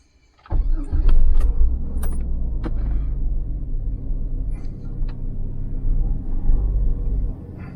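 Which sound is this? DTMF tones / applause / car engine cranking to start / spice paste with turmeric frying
car engine cranking to start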